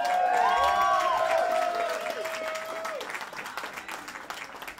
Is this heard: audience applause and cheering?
yes